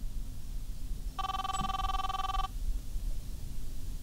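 A mobile phone rings once in a steady tonal burst of just over a second, faint against a constant low background rumble, with no voices.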